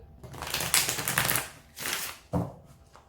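A deck of oracle cards is shuffled close by, with papery riffling bursts and soft flicks that stop and start in two or three quick runs.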